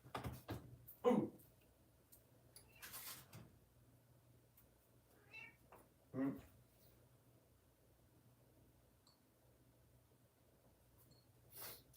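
A cat meows a few times, short and fairly close, separated by long quiet pauses with faint background hum and a soft thump or two.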